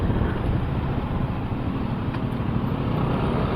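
Suzuki GSX-R150 motorcycle riding through Jakarta traffic, heard as a steady, loud rush of engine drone and wind buffeting the microphone, continuous with no talking.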